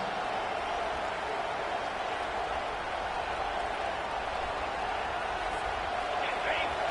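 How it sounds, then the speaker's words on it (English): A stadium crowd at a college football game, with Memphis playing, keeps up a steady, dense roar that stays loud and unbroken throughout. "the crowd coming to life here"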